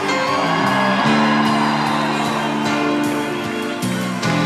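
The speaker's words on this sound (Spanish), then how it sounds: "allá atrás un grito de júbilo" A church congregation erupts in a loud, sustained shout of joy, many voices whooping and yelling together in a continuous roar that holds steady throughout.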